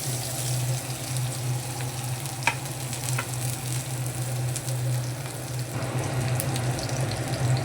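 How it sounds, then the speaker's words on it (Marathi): Chopped onion and green chili frying in hot oil in a pan, a steady close sizzle with occasional stirring scrapes and clinks throughout. "थोडे हे कांदा आणि मिरची परतून घ्यायचं आहे, जास्त करपवायचं नाही आहे"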